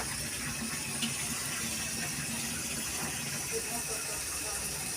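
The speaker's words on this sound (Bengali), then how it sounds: "এই যে দেখো ডালটা ফুটছে এখন" Dal boiling in a pot at home, a soft continuous hiss and steamy bubbling heard faintly and steadily, with no clear talk over it.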